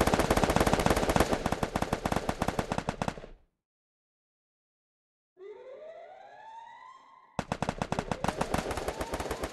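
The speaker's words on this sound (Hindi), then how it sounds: "हमारी मशीन गन इसका मोड मैंने ऑन कर दिया है" A machine gun in the video game CS fires in long, loud rapid bursts, then a gap of silence, then a rising siren-like electronic tone, then the sustained automatic fire returns.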